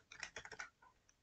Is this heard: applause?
no